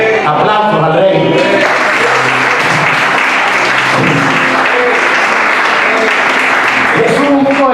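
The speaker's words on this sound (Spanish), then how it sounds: "Aplausos al Rey." A church congregation breaks into loud applause during a Spanish-language sermon, clapping densely and close after a voice and music, with sound continuing throughout.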